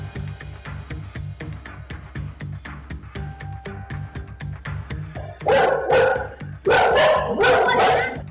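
Two aggressive dogs bark in repeated sharp bursts, loud and close, rising into a dense, frantic flurry of barking toward the end.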